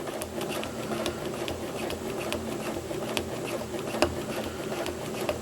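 Sewing machine stitching a quilt top slowly guided along a Baptist fan longarm template, a steady mechanical whir with faint rapid ticking, close and continuous throughout.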